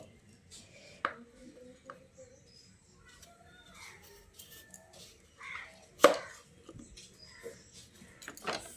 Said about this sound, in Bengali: তারপর আবারও এরকম লম্বালম্বি করে কেটে নিচ্ছি আলুটাকে